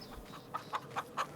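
Game chickens on a farming homestead cluck in four short, evenly spaced bursts, soft and close with no voices over them.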